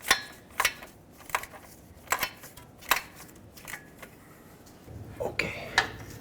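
A 16 mm mounting nut being snugged onto a new starter on a 2008-2010 Ford F-250, with a series of short, sharp metallic clicks and clinks at close range, spaced irregularly.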